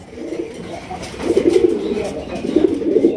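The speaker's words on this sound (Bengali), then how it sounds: "চমৎকার একজন আপনার লাল রাজগোল্লা কবুতর পাইতেছেন ভাই" A red Raj Golla pigeon coos in low, throaty rolling phrases, close and moderately loud, with a couple of swelling bursts over a steady soft background.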